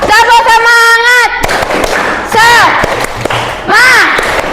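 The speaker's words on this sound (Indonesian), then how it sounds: "Tepuk semangat." Fifth-grade pupils in an Indonesian science classroom chant together and break into a short burst of sharp, rhythmic claps, with loud sustained voices before and after the clapping.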